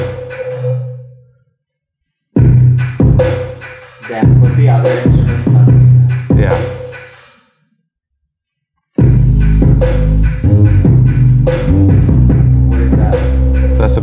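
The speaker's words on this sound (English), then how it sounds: "we added the kicks and some claps, which made the track sound like this" Kick drums and claps added to a Punjabi pop music track, punchy beats entering in bursts between short pauses, with a full groove returning loudly near the end.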